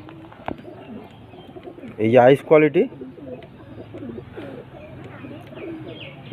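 Pigeons kept for sale coo softly nearby in short burbling bursts, while someone talks over them close up.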